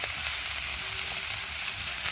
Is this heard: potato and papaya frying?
yes